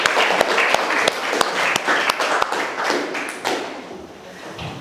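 Schoolchildren in a classroom clap together in a burst of applause, with sharp individual claps and thumps over a dense patter that thins and fades toward the end.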